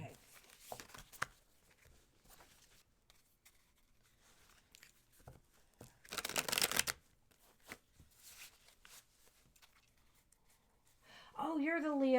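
Quiet rustling and papery riffles of cards being shuffled in short bursts, with a brief louder flurry midway and people talking softly around it.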